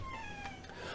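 A domestic cat gives a short, drawn-out meow, close and moderately clear over a steady low background hum.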